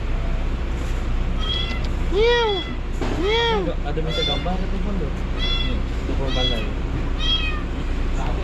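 A cat meows repeatedly, several clear rising-and-falling cries spaced a second or so apart, close to the microphone. People talk quietly underneath, and a steady low hum runs throughout.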